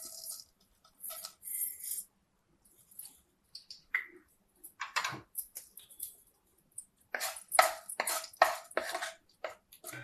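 Mustard and fenugreek seeds crackle in hot oil for a Telugu raw mango pickle, bursts of sharp sputtering pops that come and go, close and fairly faint, with no talk.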